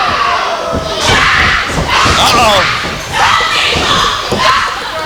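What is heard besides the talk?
wrestling crowd cheering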